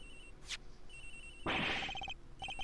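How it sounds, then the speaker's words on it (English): In the courtroom mystery game Ace Attorney Investigations, a victim's cell phone rings with fast repeated electronic trills, fairly loud and close, coming after a brief swoosh and chime effect. "phone is ringing from somewhere, sir"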